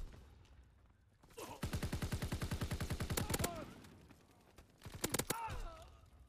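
Gunfire in a World War II gun-game shooter: a rapid, loud string of evenly spaced shots, a pause, then a few heavier blasts close together, like a double-barrel shotgun going off.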